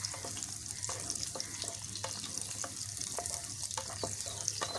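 Onions and green chilies fry in a pan, a steady broadband sizzle with scattered stirring clicks and scrapes throughout, close and moderately loud, no talk.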